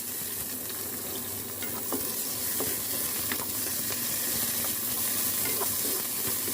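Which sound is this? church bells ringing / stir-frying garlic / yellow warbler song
stir-frying garlic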